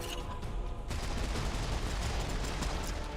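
Pistol fire in the first-person shooter Serious Sam 4 comes as a dense, loud run of rapid gunshots, one after another without pause, over a constant roaring game mix.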